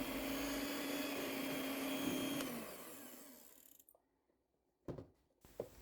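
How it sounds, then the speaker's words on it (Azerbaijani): A handheld electric mixer whips cream for an easy no-bake cake, a steady whirring whine that winds down and stops partway through, followed by quiet with a couple of brief knocks. "Hər hansı bir kremi qaba əlavə edib mikser yardımı ilə qarışdırıram."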